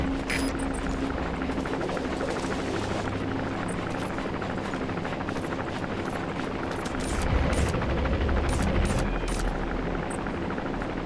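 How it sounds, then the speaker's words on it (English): An arms dealer's patrol helicopter in the video game Metal Gear Solid V: The Phantom Pain thrums overhead with a continuous, loud rotor chop and engine drone that swells slightly partway through. "Looks like the arms dealer's chopper is gonna patrol for the security forces."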